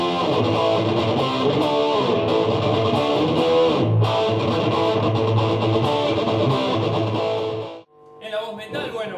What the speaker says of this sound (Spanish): En la voz metal, bueno, podemos encontrar una distorsión un poquito más fuerte